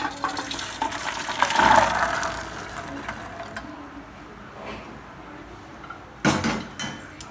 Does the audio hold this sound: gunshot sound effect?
no